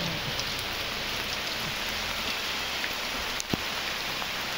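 Steady rain falling on the streets of war-damaged Gaza, a dense, even hiss of drops hitting hard surfaces, close and continuous with one brief louder knock near the end.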